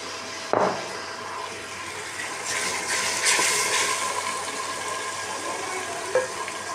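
Browned onions sizzle in oil as crushed ginger, garlic and green chillies go into the pan; a clink comes first, then a soft sizzle swells and settles into a quiet, steady fry.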